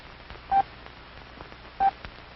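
Two short hand-sent Morse code dits, each a brief pure beep of equal length separated by a pause of about a second, faint and alone over a quiet background hiss.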